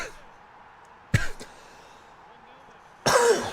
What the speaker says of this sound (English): my cough is significantly worse today than it was yesterday